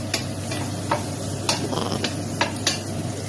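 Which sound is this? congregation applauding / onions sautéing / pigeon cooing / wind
onions sautéing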